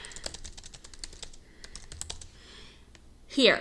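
Rapid irregular clicking of a computer keyboard as an email subject line is typed, close and fairly steady, with a louder burst of noise at the end.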